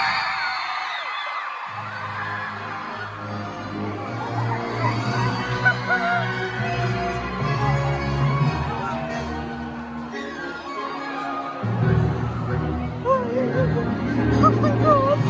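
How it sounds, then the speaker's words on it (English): A live audience at a Tommyinnit stage show in Cardiff screams and cheers in a loud, continuous crowd roar that swells further near the end, with voices layered throughout. "And twice as much screaming when he came out on stage."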